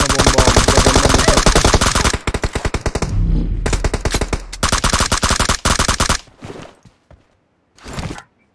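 Rapid automatic gunfire in the PUBG Mobile game, loud and close, with long dense bursts followed by shorter sporadic shots and a final brief burst after a pause.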